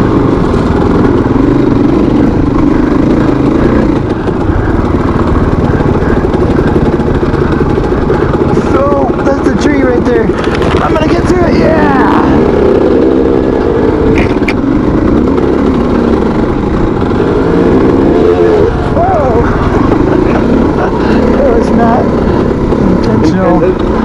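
A dirt motorbike engine drones loudly and steadily, rising in brief revs during a wheelie attempt on a rocky trail, close up with wind noise throughout.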